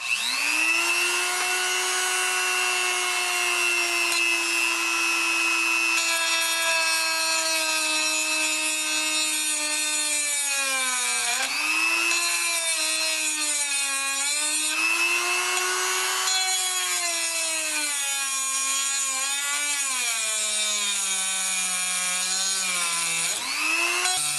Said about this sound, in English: I'll try the good old Dremel.